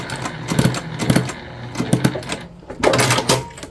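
A sewing machine stitches a convertible bag in several short, rapid bursts with brief pauses between them, close and fairly loud with a mechanical clatter.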